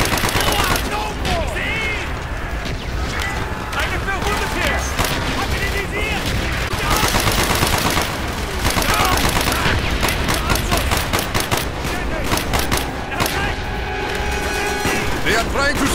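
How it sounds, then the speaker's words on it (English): Dense bursts of submachine gun fire from an MP40 in Call of Duty Black Ops, with rapid rattling shots layered over near-constant battle noise and occasional booms across the whole stretch. "Ooh, an MP40 hitting. Fucking that recoil."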